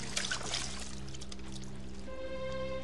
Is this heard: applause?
no